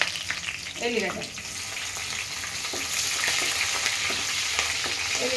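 Dried red chillies and garlic sizzle and crackle in hot oil while tempering a vegetable sambar, with a steady close frying hiss and a brief voice near the start.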